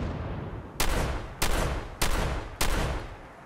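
Four heavy booming blasts from a shotgun firing cannonballs in Fallout 4, evenly spaced about half a second apart, each loud and ringing out before the next.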